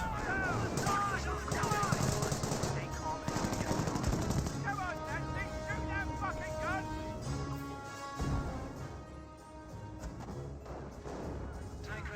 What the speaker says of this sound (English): Mortar half-track engaging these forces, rolls a miss over here.